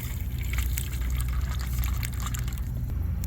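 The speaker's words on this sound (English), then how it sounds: "Add a bit of water to it." Water poured into a container to ready a water bath for a Firebox stove converted to a smoker: a steady, close liquid stream with a broad splashy hiss that continues without a break, and no talking.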